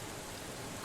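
Steady rain in the Steins;Gate 0 video game, falling at the bottom of a dried-up riverbed; a dense, even hiss of heavy rainfall with no voices.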